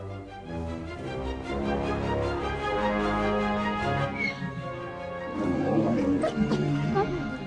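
Cerberus, the three-headed hound in Hades 2, gives low growls and a few deep barks, growing louder toward the end while a voice narrates over the game's background music.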